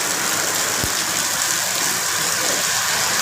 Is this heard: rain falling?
yes